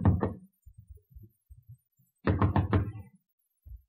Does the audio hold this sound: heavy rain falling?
no